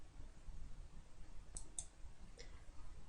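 A computer mouse clicks the plus and minus buttons, a few faint, sharp clicks spaced apart over a quiet background.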